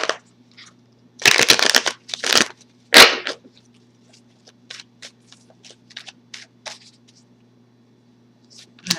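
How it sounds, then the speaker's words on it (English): Tarot cards being shuffled by hand, several brief loud riffling bursts followed by softer scattered flicks and taps of the deck, close and otherwise quiet. "One more shuffle."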